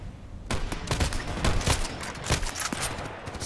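Rapid bursts of video game gunfire from a sniper shooter, a dozen or so sharp shots fired in quick irregular succession, fairly loud against a low background hum.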